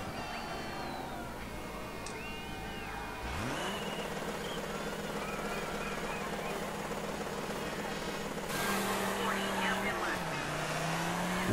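In the DiRT 3 racing game, a Volkswagen Touareg rally car's engine revs and drives off, a steady droning roar that jumps in pitch as it shifts gears, with someone talking over it.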